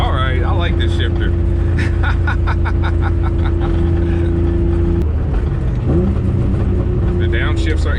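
A BMW E36 sedan fitted with a chassis-mounted shifter runs through a 1-2 upshift. The engine drones steadily, then the pitch drops and settles at the shift, with faint clicks heard inside the cabin.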